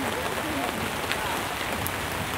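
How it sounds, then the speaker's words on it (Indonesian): Rain falls steadily on an outdoor traditional village market in Indonesia, a dense even hiss of drops on covers and surfaces throughout, moderately loud with faint voices now and then underneath. "Nah, ini suasana hujan ya."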